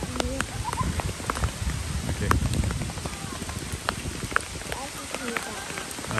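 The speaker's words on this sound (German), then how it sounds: "jetzt fängt es richtig an zu hageln." Hail falling in the mountains during a hike, a dense irregular patter of hard strikes pelting surfaces close by, with brief voices speaking over it.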